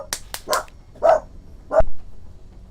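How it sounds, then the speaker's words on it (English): A dog barks close by, with a few quick yips followed by three louder, separate barks spaced about half a second apart, and no talking. "Had a barking dog."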